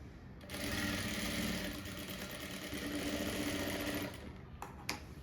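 A sewing machine stitches piping onto the back neck of a blouse, running in a steady, fast mechanical whir for about four seconds before stopping, followed by a few small clicks.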